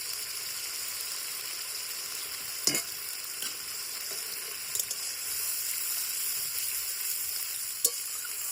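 Onions frying in ground spice paste with panch phoron on a clay stove for an egg curry, a steady, even sizzle with a few brief sharp clinks of a stirring utensil.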